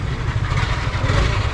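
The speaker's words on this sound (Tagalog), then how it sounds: "Ang ingay ng motor mo no." A motorcycle engine idles steadily up close, a low rumbling putter that holds constant without revving.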